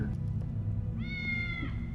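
A cat meows in the film The Prestige, one drawn-out mid-pitched cry rising over a low hum of background score, fairly soft and heard alone without talk.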